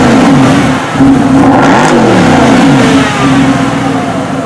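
A Mercedes SLS AMG V8 sports car engine revs up and back down in loud, close swells, its deep growl climbing and falling over a steady rumble.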